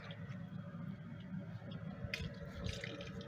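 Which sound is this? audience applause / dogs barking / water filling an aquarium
water filling an aquarium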